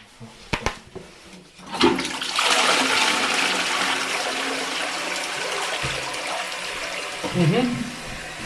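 A blocked toilet is flushed in a bathroom with a drain problem, a few short knocks giving way to a loud sustained rush of water that slowly trails off, with brief voices underneath.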